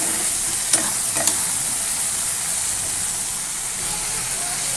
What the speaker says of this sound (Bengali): এবার আনাজটা একটু ভাজা ভাজা হোক